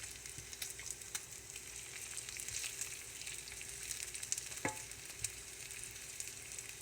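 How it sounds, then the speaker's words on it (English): Bacon sizzles in a frying pan with a soft, steady crackle and occasional scraping clicks as the strips are turned, fairly quiet throughout. "So just that quick, I'm going to turn the bacon again."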